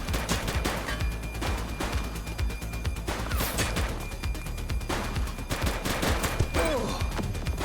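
Dense gunfire in the police video game The Precinct, a rapid, loud fusillade of shots that continues throughout with crashing impacts layered over the bursts.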